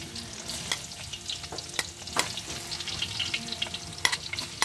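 Garlic frying and sizzling in a pan with steady crackle and repeated sharp clinks of a utensil stirring, close and fairly loud throughout, with no voices.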